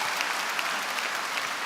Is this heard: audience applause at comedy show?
yes